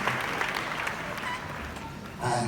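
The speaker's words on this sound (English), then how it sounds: "Please clap your hands for my father once again." An audience claps at a church gathering, steady dense applause throughout with a slight swell at the end, crowd-wide and moderately loud.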